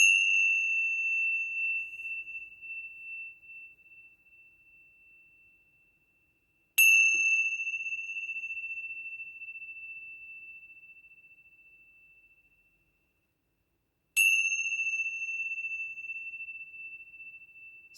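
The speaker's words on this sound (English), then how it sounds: "So I tend to hold my chimes over my deck." Three clear, high metallic chime strikes ring out several seconds apart, each tone lingering and slowly fading into silence.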